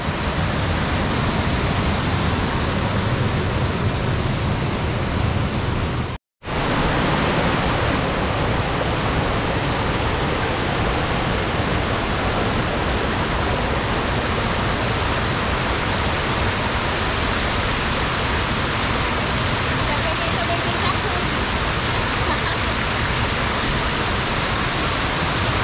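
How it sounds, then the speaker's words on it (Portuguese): A powerful waterfall at Serra do Tepequém in the Amazon roars as one steady, dense rush of water, loud and close, broken only by a brief dropout near the start. "A força da água aqui é muito grande"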